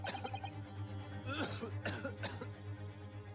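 A video game character in Ace Attorney Chronicles gives a few harsh, throaty coughs, clustered in quick bursts near the middle, over a low steady hum of background music.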